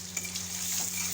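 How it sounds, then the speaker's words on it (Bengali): Potatoes frying in oil with salt and turmeric, a soft continuous sizzle with faint crackles and a low steady hum underneath. "এবার আলুগুলো একটু ভেজে নিচ্ছি, নুন হলুদ দিয়ে ভেজে নিচ্ছি।"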